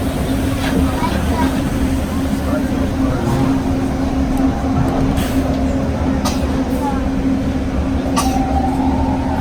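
Riding aboard the Disneyland monorail, a steady rumbling rolling drone with a low hum fills the cabin, with faint clicks and murmuring passenger chatter under it.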